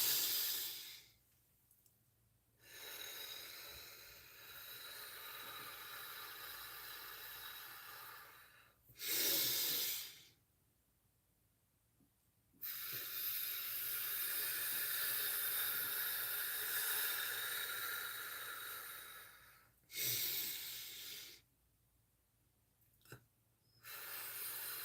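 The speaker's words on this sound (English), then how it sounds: "3 nice deep breaths." Slow deep breathing during a guided meditation, long airy inhales and exhales in a steady cycle, close and soft, separated by silent pauses with no talk.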